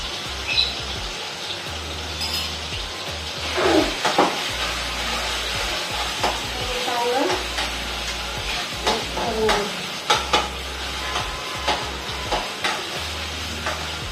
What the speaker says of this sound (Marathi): अदरक लहसुन पेस्ट टाकते मी इथे